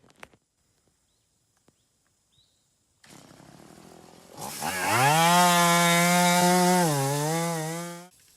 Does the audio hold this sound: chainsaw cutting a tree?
yes